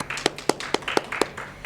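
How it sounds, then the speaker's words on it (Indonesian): A small group of classmates clapping in a steady, fairly quick rhythm of about seven sharp, close claps, with no talk over them. "Tepuk tangan sekali lagi dong teman-teman"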